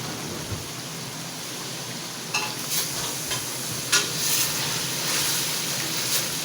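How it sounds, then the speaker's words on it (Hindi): Sauce frying over low flame in a pan for chicken chowmein, a constant rain-like sizzle with a few clinking stirs of a spoon rising above it. "थोड़ा सा हम इसको भूनेंगे सॉस को"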